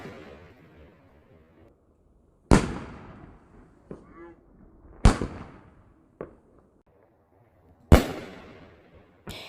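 New Year's Eve fireworks go off after a countdown: four sharp, loud bangs spaced a couple of seconds apart, each trailing into crackle and echo, with a few fainter pops between and quiet voices under them.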